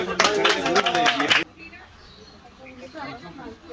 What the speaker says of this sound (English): Hollywood guys, all clap,